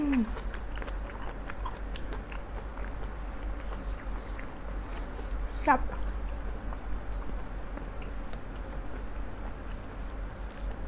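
Someone bites into and chews crispy fried squid chin close to the mic, the crunching repeating in quick bursts while a person talks over it.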